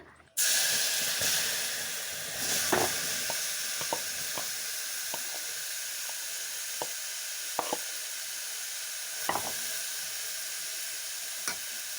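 Cashew nuts frying in a few spoons of ghee in a pan for carrot halwa, a continuous close sizzling hiss broken by scattered small pops and crackles, steady throughout with no talking.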